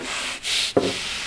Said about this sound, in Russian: Давайте теперь посмотрим сбоку, как пилит пила.